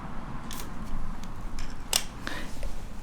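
A succulent stem cut back with a blade or scissors, a single short crisp snip close up, with a few faint clicks and handling noises around it against a quiet room.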